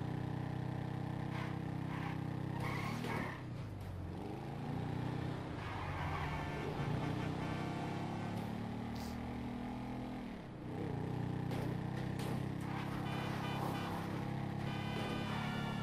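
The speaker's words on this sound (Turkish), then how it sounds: "Şurada kal bir tane giden araba var." Car engine in GTA V, a steady close hum with revving rises and falls and passing traffic throughout, fairly continuous and loud with no talk.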